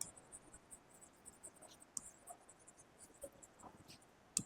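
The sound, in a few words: pen writing on paper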